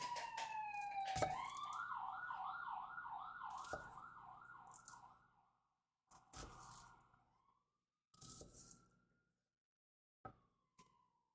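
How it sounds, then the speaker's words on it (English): An ambulance siren wails, sweeping up and down for several seconds, fairly distant, then breaks into short fading bursts and yelps before trailing off. "Ambulances are going off."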